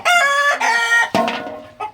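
A rooster crows loudly and close by, a full drawn-out call followed by a shorter second crow, with no talking.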